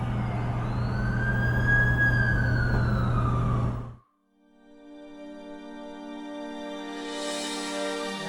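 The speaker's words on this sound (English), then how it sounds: "That's the ambulance I called." An ambulance siren in The Amazing Spider-Man 2 video game wails loudly for about four seconds, then cuts off abruptly, leaving a steady tonal game ambience.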